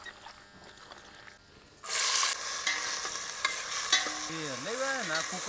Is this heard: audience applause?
no